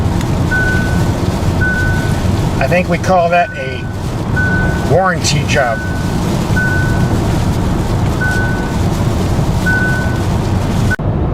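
Warning beeps from a 2016 Hyundai Sonata Hybrid malfunctioning in the rain: a short high beep repeating evenly about every one and a half seconds over steady car noise, with someone speaking briefly and a couple of sharper chirps midway.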